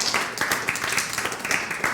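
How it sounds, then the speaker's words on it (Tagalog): Church congregation applauding, a short burst of scattered overlapping hand claps at moderate loudness lasting about two seconds. "Pwede bang palakpakan natin si Lord?"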